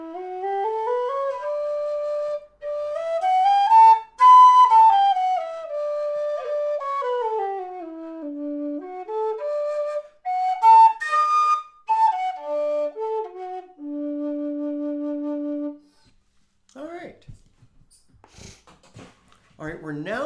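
A low D tin whistle plays a clear, slow melody, gliding up and down through held notes and ending on a long, low tone. Brief breathy noises and a few words follow.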